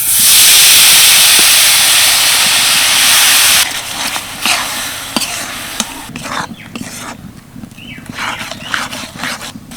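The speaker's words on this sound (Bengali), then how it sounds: "এবার এই নারকেল আর গুড়ের মিশ্রণটা সরাসরি কড়াইয়ের মধ্যে দিয়ে দিচ্ছি" A coconut and jaggery mixture for patisapta pitha filling hisses loudly as it lands in a hot wok, then fades into quieter sizzling broken by repeated scraping and stirring strokes, with no talk.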